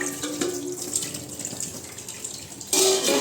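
Running tap water splashes while food is rinsed and stirred in a kitchen sink, a loud, steady gush that grows stronger and brighter near the end.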